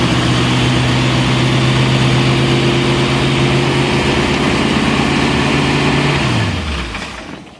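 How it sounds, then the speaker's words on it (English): A 1932 Plymouth hot rod engine with a mild cam idles steadily and loudly up close with a smooth, even rumble, then is shut off and winds down to a stop near the end. "It's got a mild little cam to it. Not a whole lot of rumble, but it's got to sound like a hot rod."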